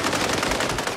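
Rapid automatic gunfire from the video game Call of Duty, a loud continuous burst of machine-gun shots filling the whole second with no talk over it.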